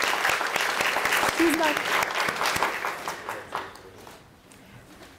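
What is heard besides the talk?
audience applause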